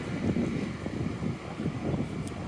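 Wind buffeting a microphone on a walk through Dalhousie campus, a low, rumbling roar that swells and eases in gusts.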